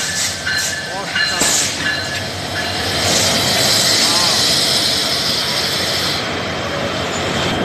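A South Korean-built locomotive hauling an express train rolls into a Dhaka station, a steady loud rumble of wheels on rail with faint squeals and clatter, while people talk and exclaim over it.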